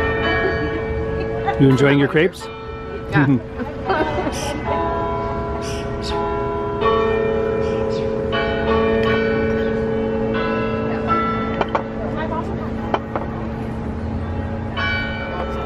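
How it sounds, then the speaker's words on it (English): Church bells in Kingston ring out a melodic tune with long resonant tones, while a person speaks briefly nearby over the chiming. "this church, when it's calling people to church, plays music with their bells."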